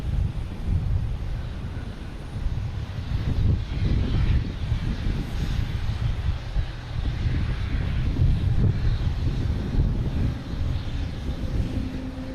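Jet engines spool up at Boston Logan Airport as a Spirit Airlines aircraft fires up, giving a steady, loud low roar with wind buffeting throughout and no clear talk.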